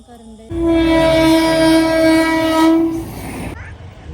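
A loud, sustained train horn blares steadily for about three seconds over the rumble of a train passing a closed level crossing, then cuts off, leaving the rolling noise.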